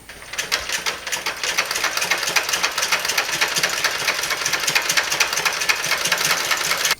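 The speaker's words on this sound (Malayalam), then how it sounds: "ഇതേപോലെ തന്നെ ഈ എഡ്ജിൽ കൂടി തയ്ച്ച് പഠിക്കുക" A sewing machine stitching along a double-folded fabric edge, a fast steady mechanical clatter of rapid needle strokes that runs continuously for several seconds at close range before stopping abruptly, with no talk.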